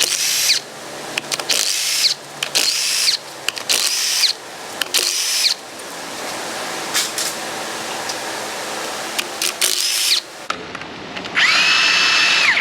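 A 16 mm impact wrench zipping cylinder head bolts off a water-damaged 350 small block engine, giving repeated loud rattling bursts of a second or so each, followed by a longer steady whir near the end.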